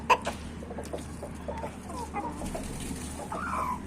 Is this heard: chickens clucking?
yes